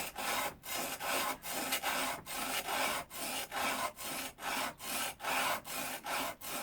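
Edge tool blade held in a honing guide being rubbed back and forth on sandpaper through progressively finer grits, a regular rhythmic scraping of about two strokes per second, close and fairly quiet.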